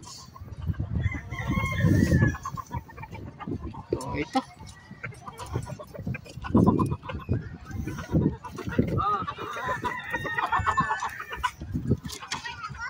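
Texas chickens at a backyard farm cluck steadily and crow now and then, close by and fairly loud, while someone talks over them throughout.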